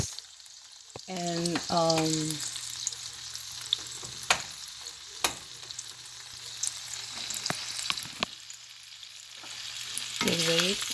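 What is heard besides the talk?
frying hot links sausage in a pan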